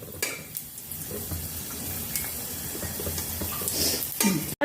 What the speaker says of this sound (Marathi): तेलात तळूया